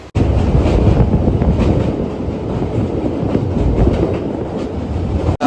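A train runs along the rails with a loud, steady rumble and faint clickety-clack, heard from inside with wind buffeting the microphone; no speech.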